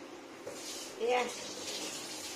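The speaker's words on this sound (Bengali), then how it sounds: "দেখুন ফ্রেন্ডস কেমন ফুটছে সুন্দর হয়ে" Prawn masala curry bubbles in a pan as a soft, steady watery hiss with a brief louder surge, heard close while a voice talks over it.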